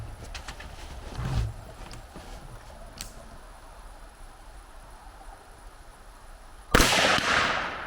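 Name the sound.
gunshots test-firing a rifle with a red dot sight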